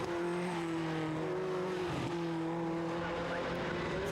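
A TVR Tuscan race car is driven hard on a racing circuit, its engine holding a steady, sustained drone with a small dip midway, heard at a distance under constant crowd and track ambience.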